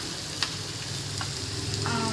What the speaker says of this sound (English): I'm going to roast onions on this pan still